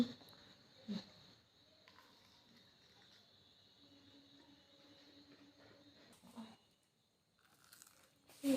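A Kurkure snack packet gives a few brief, quiet crinkles and crunches at scattered moments, with near silence between them.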